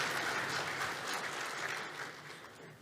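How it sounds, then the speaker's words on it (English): An audience at a sustainable energy conference panel applauding, a dense, steady wash of many hands clapping that tapers slightly at the close. "we'll take applause breaks."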